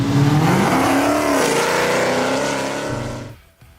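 A supercharged, carbon-fiber Mopar car running E85 with a bigger supercharger and custom intake, making 960 horsepower, roars loudly at close range in one hard pull whose pitch climbs, then cuts off abruptly near the end.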